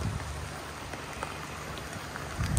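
Steady rain falls on a 2007 MacGregor 26M sailboat, a dense, even patter of drops across the whole stretch, close and constant with no voices.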